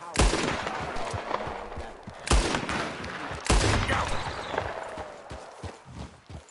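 Gunfire aimed at rabbits in Red Dead Redemption 2: three loud, sharp shots roughly a second apart, each with a rolling outdoor echo, plus fainter rustling and hoof-like taps between them.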